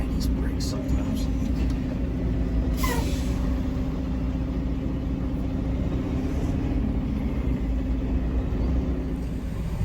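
A semi truck on a delivery run in Utica, New York, with rear air suspension and trailer air brakes, lets out a short hiss of air over a continuous loud engine drone.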